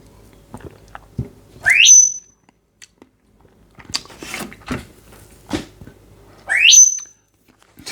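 A pet bird whistles two loud, rising piercing notes several seconds apart, close to the microphone, with scattered clicks and small knocks in a quiet indoor room between them.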